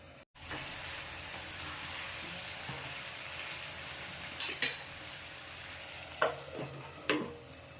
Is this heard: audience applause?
no